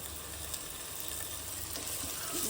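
Ginger garlic paste sautéing in a pan for vegetable dum biryani, a steady soft sizzle and frying hiss running continuously at a close, moderate level with no talk.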